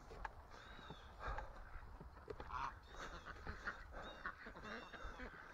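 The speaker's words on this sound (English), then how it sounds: "Man, we got a lot of Canada geese here." Canada geese honk repeatedly in a scattered series of faint, distant calls over a quiet outdoor background.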